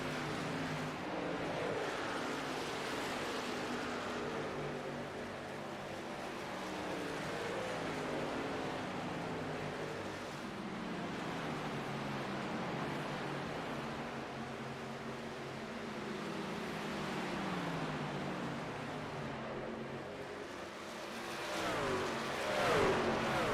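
Race trucks roar steadily around Charlotte Motor Speedway, a continuous droning engine wash with rising and falling pitches as vehicles pass. It is fairly distant and holds an even level throughout, with a brief louder surge near the end.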